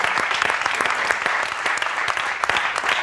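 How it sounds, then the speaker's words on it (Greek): An audience applauds during a Greek music television show, a dense, steady patter of clapping that stays loud and continuous throughout. "ένα χειροκρότημα σας παρακαλώ πάρα πολύ"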